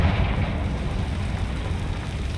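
Confringo fire spell explosion in Hogwarts Legacy, a deep rumbling blast that rolls on as a low, steady roar without any talk.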